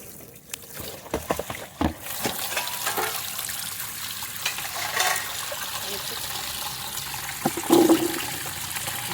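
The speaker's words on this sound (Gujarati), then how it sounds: "હવે આપણે ગુંદાને ધોઈ નાખીશું પાણીમાં." Gunda berries are washed in water, heard as close sloshing and splashing with scattered clinks and drips that grow into steadier churning water.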